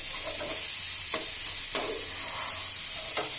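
Potato curry sizzles steadily as it fries in a pan, with a few sharp scraping strokes of a spoon stirring it at irregular intervals, heard close with no talking.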